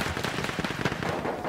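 Sharp gunfire in a Battlefield 1 multiplayer match, with repeated rifle-like bangs and explosive cracks over constant loud battle noise, one shot from a sniper rifle.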